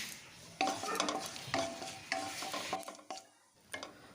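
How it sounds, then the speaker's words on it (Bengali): Whole cumin seeds fry on low heat in a pan with a soft sizzle, while a spoon stirs them in repeated scraping strokes, fairly quiet and close. "গোটা জিরে ফোড়নের ফোড়নটা সুন্দর গন্ধ আসা পর্যন্ত ভালো করে নেড়ে চেড়ে ভেজে নিচ্ছি"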